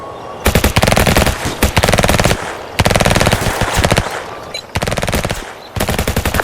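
Sustained machine-gun fire in the video game Emerge rattles out in loud, rapid bursts separated by short pauses, dense and close throughout.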